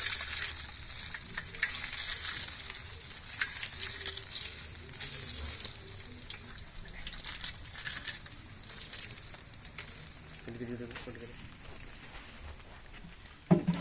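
Bay leaf frying in hot oil for chicken biryani gives a steady close sizzle with a few stirring scrapes and soft clatters near the end.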